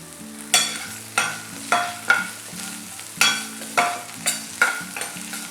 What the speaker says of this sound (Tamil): இப்போ இது எல்லாத்தையுமே ஒரு 1 மினிட் வதக்குனா போதும்